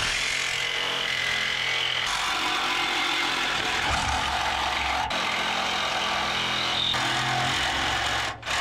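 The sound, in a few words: electric grinder cutting off a car shock mount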